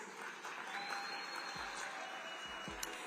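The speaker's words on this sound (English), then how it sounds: "as you give them a thunderous round of applause" An audience at a youth business forum gives a round of applause, a steady close patter of clapping that fills the whole stretch, with a few low knocks beneath it.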